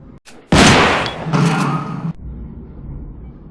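A loud, sustained burst of shotgun fire and booming impacts from a koala squad in a strategy video game, lasting over a second before cutting off to a low rumble.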